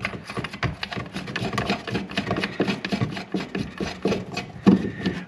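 An old bathroom tap is worked loose with a tool, giving close, uneven rubbing, scraping and grinding metal-on-metal noises in irregular bursts with no talk.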